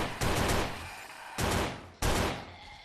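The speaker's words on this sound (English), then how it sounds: "we do have our M4 yet, which I am honestly still surprised that this thing is burst fire" An M4 rifle in the video game 7 Days to Die fires in loud, close bursts: three blasts of sustained rapid fire, each cutting off sharply and separated by short gaps.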